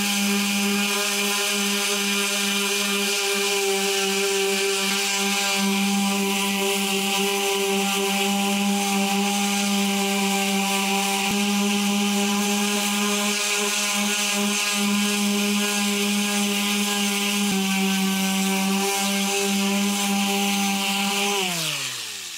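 Power sander grinding an abstract art surface made with building supplies outdoors, a loud, steady motor whine with a rough buzzing edge running continuously for over twenty seconds before winding down at the end.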